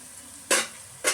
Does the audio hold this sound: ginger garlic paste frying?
yes